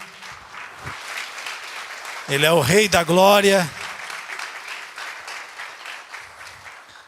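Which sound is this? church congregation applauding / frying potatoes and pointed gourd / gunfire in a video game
church congregation applauding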